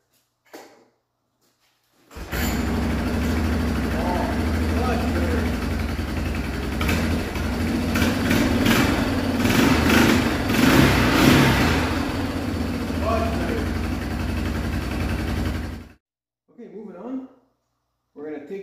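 A restored Yamaha Big Bear 350 ATV engine starts and runs steadily for about thirteen seconds, loud and close, with revving surges in the middle before it cuts off abruptly into near silence.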